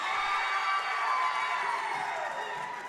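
High school varsity boys basketball crowd, Calvary Christian versus Suburban, cheering after a free throw; a sustained gym roar of voices that swells and then slowly fades.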